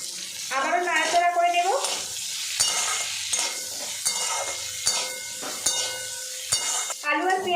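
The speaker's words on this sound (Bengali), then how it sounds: "পেঁয়াজটা কিন্তু বেশ কিছুক্ষণ নাড়াচড়া করে নিয়েছি পেঁয়াজটাও বেশ ভাজা ভাজা হয়ে গেছে" Chopped onion frying with boiled potatoes is stirred in a pan, giving a close, steady sizzle broken by repeated scraping and clattering spoon strokes.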